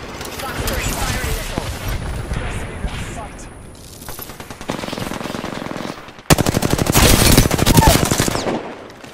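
Bursts of automatic gunfire rattle through a combat video game, fast rhythmic rounds growing louder and denser toward the end, with a voice speaking briefly over the shooting.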